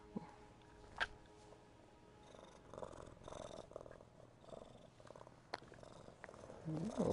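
A cat purrs softly in the Skyrim VR video game, a low, steady rumble under faint game ambience, with a couple of brief clicks and a louder rustle at the end.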